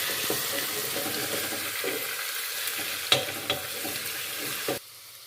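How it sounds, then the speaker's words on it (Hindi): Crushed garlic and ginger frying with browned onions for a beef paya, giving a steady broadband sizzle with a few sharp clinks and stirring knocks near the end before the sound drops away. "अब इसमें हम लहसुन अदरक कूटा हुआ डाल देंगे और इसको भी हम फ्राई कर लेंगे।"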